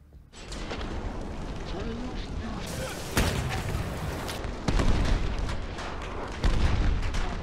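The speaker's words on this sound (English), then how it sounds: "These mortars are just insane." Mortar rounds explode in the Battlefield video game, three or four heavy booms landing a second or two apart over a constant rumbling battle din, with talk mixed in.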